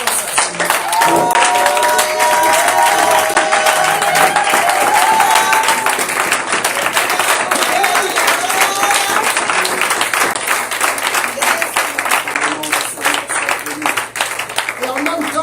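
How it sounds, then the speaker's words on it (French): A church congregation at a Sunday worship service applauds loudly and steadily for the full stretch, with cheering voices and some sustained singing or organ tones mixed in over the dense clapping. "j'aimerais simplement que tu lui donnes encore une bonne main d'acclamation par reconnaissance à Seigneur"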